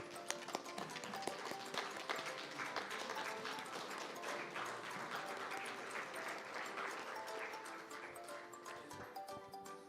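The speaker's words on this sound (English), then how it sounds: "You may stand and applause for this moment," Audience standing to applaud at a strategic plan launch event with cake: dense, sustained clapping from many hands, fairly faint and distant, with a murmur of voices underneath.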